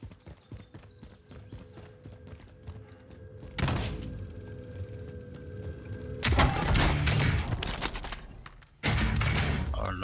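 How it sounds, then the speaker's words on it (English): Shotgun fire in Call of Duty Warzone: three loud, broad blasts about two to three seconds apart, each with a sustained crashing tail, over continuous game noise. "Another shotgun."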